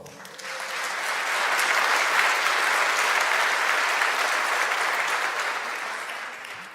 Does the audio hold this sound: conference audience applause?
yes